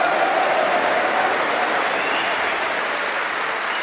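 Steady, dense applause from a snooker crowd at the Masters as Ronnie O'Sullivan builds a century break, filling the hall continuously and loudly throughout with no break.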